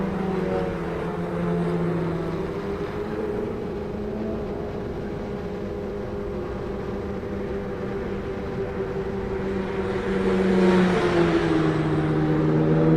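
Autonomous race cars circle a track at the Indy Autonomous Challenge, a steady loud engine drone with wavering pitch that holds throughout and builds slightly louder near the end.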